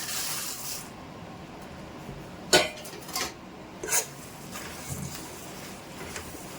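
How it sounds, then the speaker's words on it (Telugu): Three cups of puffed rice tipped into hot jaggery syrup in a pan, giving a few brief crisp rattling bursts over a steady low background hiss, with no talking. "త్రీ కప్స్ ఆఫ్ బొరుగులు అని చెప్పాను కదా అందులోకి యాడ్ చేస్తున్నాం అన్నమాట"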